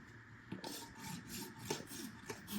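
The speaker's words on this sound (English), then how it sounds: "When you rasp, it's critical that you float a rasp." A farrier's rasp filing a horse hoof during a trim, five or six steady rasping strokes in an even rhythm, close and moderately quiet, with no voices.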